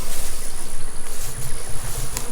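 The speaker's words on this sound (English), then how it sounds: "we got some bees around the front" Honey bees swarm around beehive boxes at harvest time, a steady, dense buzzing that hums close by and continuously with no voices.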